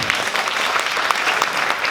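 Audience applause at a local election candidate presentation in Yvetot, a dense burst of steady clapping from a crowd throughout, fairly loud and close.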